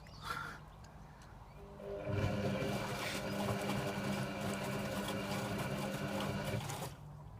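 A Servis Sapphire 6055 washing machine runs a Cotton 40 half-load cycle with bio detergent; a brief thump opens, then a steady, close motor whir with a rough, churning edge starts about two seconds in and runs on evenly before cutting off.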